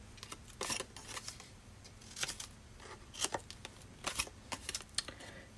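Large scissors trimming a small paper treat box, giving a string of close, crisp snips and cuts in uneven bursts, with no talking.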